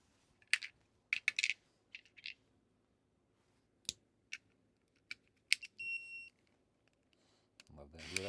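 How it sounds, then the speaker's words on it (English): A short electronic beep tone sounds near the end, after a series of sharp clicks and taps from handling a small device. "Hear that beep. That means it's working."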